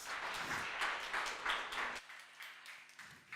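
An audience at a business competition grand finale claps faintly for about two seconds, then the applause cuts off into near silence.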